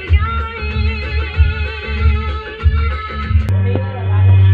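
Woodman 10-inch bass tube subwoofer in a 2007 Honda Civic, deep booming bass pulses thumping in a steady beat under music, loud and close, settling into a sustained low drone at the end.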